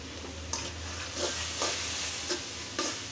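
A spice paste with green chillies fries quietly in a pan, a soft continuous sizzle broken by four or five brief scraping stirs at regular intervals, with no voices.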